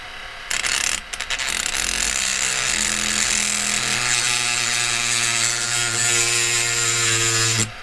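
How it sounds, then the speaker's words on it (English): A Dremel with a diamond wheel grinding through a GE Talaria projector light valve, a loud high whine with shifting pitch after a couple of brief starts. "this Dremel diamond wheel is actually fairly effective at cutting through"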